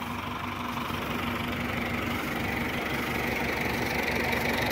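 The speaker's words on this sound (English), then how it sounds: "We're using the trailer and tractor." A farm tractor engine running steadily during a muskmelon harvest, a constant close rumble with a low hum and slight knocking texture, heard alone with no talk.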